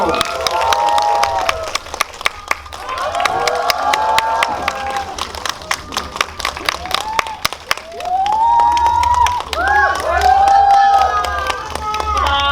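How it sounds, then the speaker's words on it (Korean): Clapping from a Korean cinema audience welcomes actors and a director onto the stage at a film screening event. The applause runs steadily under a host's amplified talk and a rising musical tone, and the crowd noise swells toward the end. "박수로 맞이해 주십시오."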